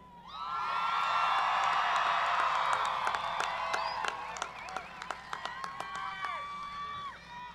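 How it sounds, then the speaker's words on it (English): An outdoor high school graduation crowd, class of 2022, cheers loudly for seniors on the field: a sustained wash of yelling and whooping that slowly fades, with scattered claps and sharp whistles continuing toward the end. "go ahead and cheer for them"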